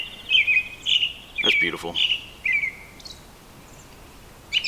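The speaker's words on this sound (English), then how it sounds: "That's their morning song, the robins." Robins sing their morning song at a first spring campsite, a series of bright, clear chirping phrases repeating in short bursts, fairly close, with a brief spoken remark over them.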